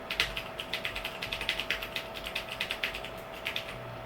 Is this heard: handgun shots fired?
no